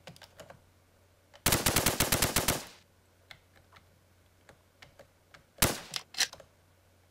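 Rapid bursts of automatic gunfire in a Minecraft Flans mod PvP match, one long rattling volley followed by a short quieter gap, scattered single shots and another brief burst.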